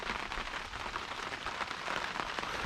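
Rain falls steadily outdoors during repair work on an ASV RC-100 track loader, a faint, even hiss of drops on surfaces that holds constant throughout with no talking.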